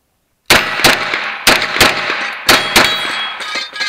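Shots from a hard-chromed CZ custom A01-LD pistol ring off steel targets: six loud, sharp bangs, each with a metallic clang, fired in quick pairs with short ringing tails.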